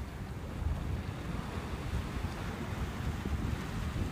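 Steady wind blows across the microphone on the seafront at Nice, with surf washing in underneath; a continuous, broadband roar that holds at an even level throughout.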